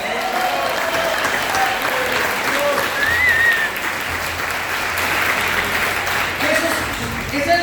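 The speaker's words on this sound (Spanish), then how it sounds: "Vamos a darle un aplauso a todos los hombres de Harvest" A church congregation applauds the men of Harvest, a sustained, even wash of many hands clapping throughout, with faint voices and a brief whistle-like cry rising over it.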